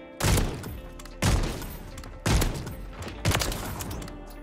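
Four evenly spaced sniper rifle shots in a video game, each a loud, sharp boom with a short decaying tail, about one second apart.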